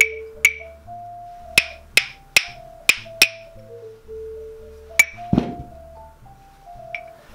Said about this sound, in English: nice and relaxed, and strike the other clave